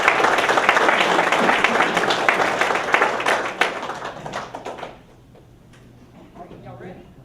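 Audience at a September 2013 Summer Creek business-class event breaks into steady, dense applause for about five seconds, then it drops off, leaving quiet room noise with a faint voice near the end.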